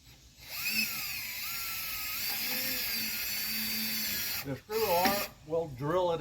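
A power drill whines as it drives a screw into a downspout scroll trellis, a steady high-pitched buzz lasting several seconds before a voice speaks over the last moments.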